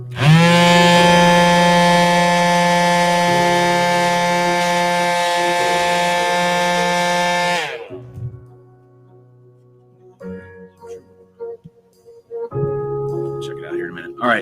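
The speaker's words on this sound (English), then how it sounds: "So a little bit of sanding right here." A power sander works on a RiteWing model airplane build, giving a loud steady whine that runs for several seconds before cutting off. Quieter clicks and handling sounds follow.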